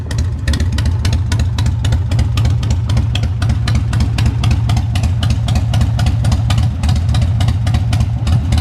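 A newly bought motorcycle's engine idles steadily after starting, a loud, continuous low rumble with a fast, even pulsing throughout, and no one talking.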